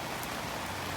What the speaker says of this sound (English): you can hear it was a pretty heavy rain, and everything's just beating off